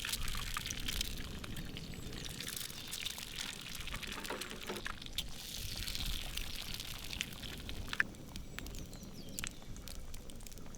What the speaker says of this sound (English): In can go a little olive oil and simply crack the egg straight into it.